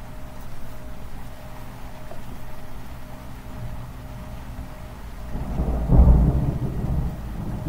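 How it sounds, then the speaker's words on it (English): Rain setting in during a thunderstorm, a steady soft hiss of falling rain broken by a loud rumble of thunder midway. "It's really starting to rain."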